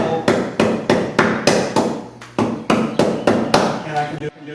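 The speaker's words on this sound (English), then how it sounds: "one hand on the chisel, one hand on the mallet, safe way to carve" Mallet striking a chisel while carving wood, a steady run of about eleven sharp, loud knocks in even rhythm, close up and alone.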